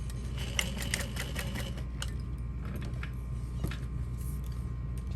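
A sewing machine runs a box stitch along the folded raw edge of a small parachute knapsack, giving off a steady mechanical clatter in short bursts with brief pauses, close by and alone.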